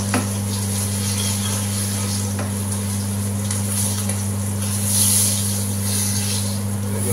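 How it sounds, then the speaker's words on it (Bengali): Marinated, flour-coated fish sizzles on a pan grill with a steady, close, crackling hiss and a constant low hum underneath, without pause throughout. "যে ফিশটা আমি আগে থেকেই ম্যারিনেশন করে রেখেছিলাম, সেটা একটু ময়দা লাগিয়ে আমি গ্রিল করছি।"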